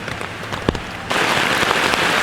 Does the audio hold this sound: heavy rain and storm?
yes